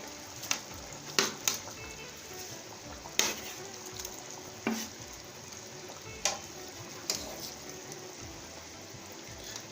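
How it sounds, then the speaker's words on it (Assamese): River fish going into a thickened raw mango curry, a soft steady simmer and sizzle with scattered clinks and taps from the pot, quiet and close. "জোলখিনিত এতিয়া মাছখিনি দিব পৰা হৈছে।"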